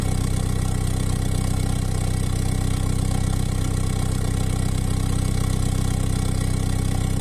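A carburetor-equipped car engine on a Tavria 1.1 fitted with a freshly repaired 21081 carburetor idles steadily and evenly, a close, continuous low hum with no revving or talk.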